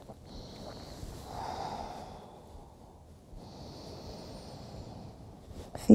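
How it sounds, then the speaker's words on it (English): Slow, audible breathing of someone resting in a yoga pose, with soft airy inhales and exhales in two long waves, close and quiet, with no talking. "listen to the sound of your breath"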